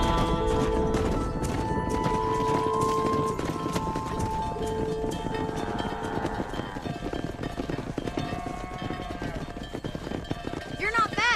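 Wild horses galloping in Red Dead Redemption on Xbox 360, rapid hoofbeats clattering over ground with occasional neighs and whinnies, under game music and spoken dialogue.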